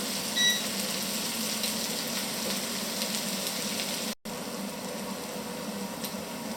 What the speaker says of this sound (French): J'ai bien graissé mes oignons avec la matière grasse, l'huile d'olive.